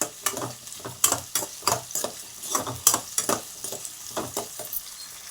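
Onions sauté in a pan for a brinjal and tomato egg curry, with a loud rhythmic series of spoon scrapes and clinks over a soft sizzle, close by and with no talking.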